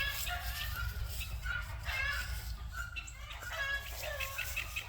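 Chickens scratching about outdoors near a pickup truck give soft, scattered clucks and chirpy calls, faint and somewhat distant over a low background rumble, with no talking.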